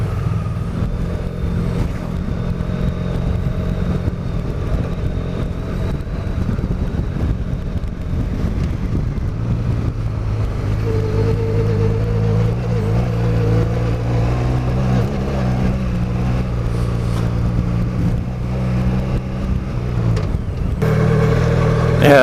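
A big motorcycle riding a dirt road in second gear, its engine a loud, steady low drone that shifts pitch as it climbs, close up with heavy wind noise over the microphone throughout.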